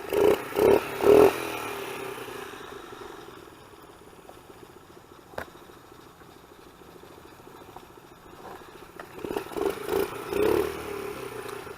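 A stock Honda XR50 minibike's small engine buzzes loudly in revving bursts at the start and end of a top speed run, dropping to a quieter hum in between.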